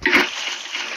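Water placed from a bucket in Minecraft gives a quick splashing slosh, a bright burst at the start that trails into a softer watery hiss for about a second.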